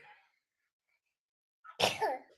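A single sharp sneeze bursts out suddenly after near silence, close and fairly loud.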